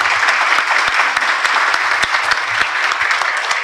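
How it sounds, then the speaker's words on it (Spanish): A conference audience applauds loudly and continuously at an opening session, with dense, even clapping throughout and no voices heard over it. "Então, uma salva de palmas a essas três pessoas."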